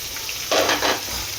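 Spice paste fries in hot oil in a wok, a short close sizzle that swells suddenly into a louder hissing burst and then settles back.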